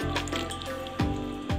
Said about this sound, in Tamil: பிறகு கொஞ்சம் கொஞ்சமாக தண்ணி ஊற்றி நம்ம எப்படி பிணையிறதுங்கிறதையும் பார்த்துருவோம்